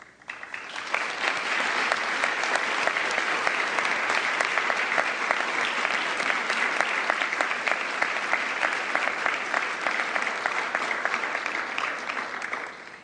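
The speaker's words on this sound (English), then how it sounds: "Please, another round of applause." Sustained applause from a large audience at the International Women of Courage Award Ceremony, dense steady clapping that rises quickly and holds at an even level throughout.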